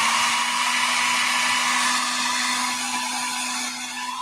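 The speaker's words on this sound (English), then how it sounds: "I got my Conair hair dryer here." A Conair hair dryer runs on its low setting, a steady close whooshing airflow with a constant motor whine, holding level throughout and easing slightly near the end.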